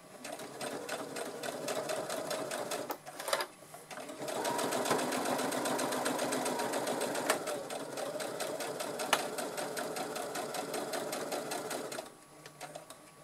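A sewing machine stitches a quilted fabric pouch, a steady loud whirring run with a brief pause near the start and a stop near the end.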